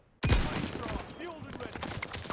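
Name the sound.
PTRS sniper rifle gunshot in a Call of Duty video game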